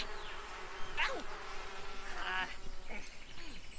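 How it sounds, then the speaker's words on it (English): Buzzing bee swarm from The Sims 4, a steady insect drone close by with a few higher whirring passes sweeping through, no talking. "The bees are after him."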